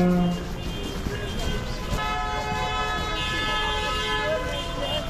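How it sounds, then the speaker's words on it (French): Car horns toot and honk in sustained, overlapping tones on a busy street in Québec's Petit Champlain district during the winter carnival, with crowd noise and voices underneath. "Et vous pouvez bien arrêter de klaxonner."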